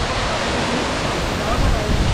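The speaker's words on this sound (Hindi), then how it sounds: "जो पानी की फुहार है वो सीधे मेरे गोप्रो पे गिर रही है" Dense, loud rush of waterfall spray pouring straight onto a GoPro camera at Dawki in Meghalaya, a steady broadband roar with no break and a slight swell toward the end.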